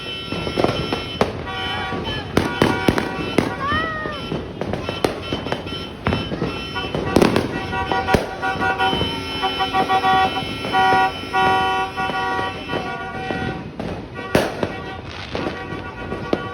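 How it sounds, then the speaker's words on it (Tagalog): New Year fireworks and firecrackers bursting in a rapid, irregular string of loud cracks and pops, with car horns tooting and people calling out through much of the clip. "konti lang ang fireworks."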